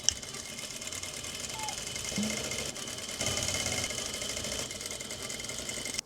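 Sewing machine stitching corset pieces cut from a saddle, a steady mechanical whirr running throughout at moderate level, with brief pauses and a few clicks as the fabric is adjusted.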